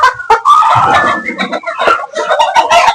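A Columbian Light Brahma rooster and its hens on a farm cluck and squawk loudly and continuously, with overlapping bird calls close at hand and no one speaking.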